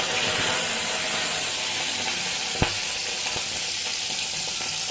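Mustard seeds splutter in hot coconut oil: a loud, steady sizzling hiss with a single sharp pop near the middle and a few fainter crackles, without speech.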